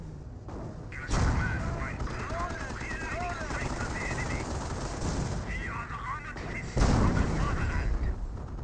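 Rapid machine-gun and rifle fire from a Company of Heroes World War II battle, with heavier tank destroyer shots booming near the start and again toward the end, continuous and busy, with a voice talking over it.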